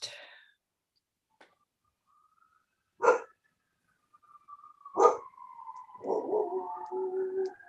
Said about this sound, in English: Whose puppy is that?